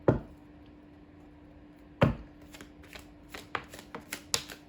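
Playing cards shuffled and dealt, two sharp riffle snaps followed by a series of lighter quick card flicks and slaps, close and fairly quiet over a faint steady hum.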